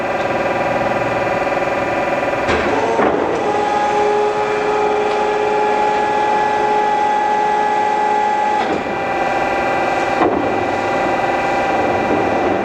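A 43-inch Defum vertical turret lathe runs steadily, with a loud, continuous tonal hum and whine at speeds up to 200 RPM, broken by a few brief clanks.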